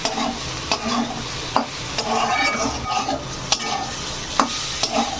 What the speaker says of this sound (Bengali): ডালগুলো কালারটা চেঞ্জ হওয়া পর্যন্ত ডালগুলোকে ভেজে দেবো